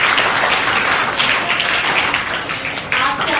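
A crowd claps at a Children's Day celebration in Rajasthan, a loud, continuous rush of applause that carries on throughout with a voice faintly mixed in beneath it.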